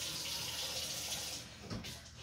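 Tap water runs steadily into a kitchen bowl holding a bit of vinegar, a close, even hiss that trails off near the end with a short splash.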